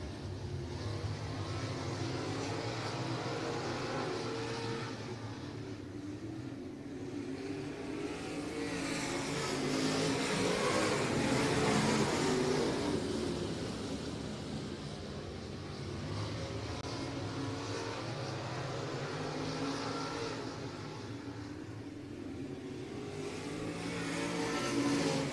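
Stock cars racing a heat at Hibbing Speedway, engines roaring and revving continuously as the pack runs down the back stretch into the turns, swelling louder mid-way as cars pass close, with no talk over the steady motor noise.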